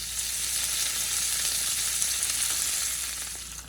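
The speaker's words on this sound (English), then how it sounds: "I have some bacon sizzling in the pan that I diced up" Steady, crackling sizzle of diced bacon frying in a pan, close and continuous with no voices.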